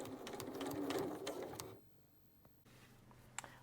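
Sewing machine fitted with a blind hem foot stitching a dress hem, a faint quick whirring run that stops partway, followed by quiet room tone and a small click.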